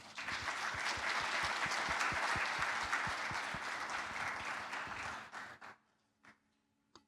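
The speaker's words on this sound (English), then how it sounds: "Please welcome him with a big round of applause." A crowd applauds steadily for several seconds, a dense wash of clapping that fades out near the end, leaving a few scattered claps and quiet.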